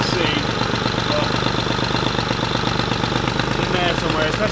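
A Nissan 350Z twin-turbo engine idles steadily up close, a constant low rumble with a fast, even pulsing throb and some mechanical clatter throughout, with no clear start-up moment.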